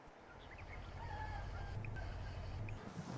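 A duck gives a few short, quiet quacking calls over a low ambient rumble in a brief snippet, with no speech.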